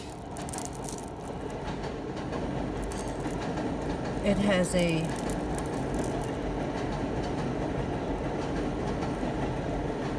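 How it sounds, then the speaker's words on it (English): A train rolls past at a distance, a continuous low rumble with a brief squeal of wheels midway, while a person talks briefly over it. "I'm letting the train go by."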